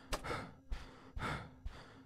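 A player character in a zombie horror video game breathes heavily after running out of stamina. Four loud panting breaths come at a steady rhythm, each with a sharp start and a breathy tail.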